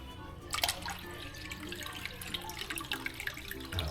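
Water runs from a newly connected faucet, a close, splashing gush with dripping and trickling details that continues steadily throughout.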